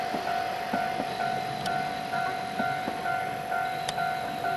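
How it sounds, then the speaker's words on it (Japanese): Train at Tsugaru-Futamata station in 1993, heard from a snow-covered platform at Tsugaru-Imabetsu station: a steady hum runs through the clip with faint rhythmic clanks and one or two brief squeals, with no talking. "下の津軽二俣駅に列車が到着したようです"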